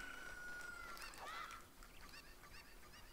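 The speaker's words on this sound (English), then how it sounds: "you may notice there's a chicken behind this fence here" Faint honking, squawking cucco calls in The Legend of Zelda: Ocarina of Time over a steady background hiss, a couple of rising cries followed by softer chatter.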